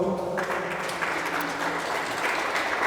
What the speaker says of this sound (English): deserves you give him a second round of applause